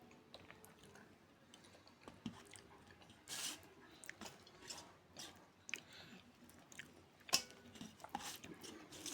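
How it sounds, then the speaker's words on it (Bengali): Close chewing and biting while eating an egg, a run of soft wet squishes and crunchy bites in an uneven rhythm with brief louder bursts, set against a quiet room with no talking. "আমি ডিম খাই"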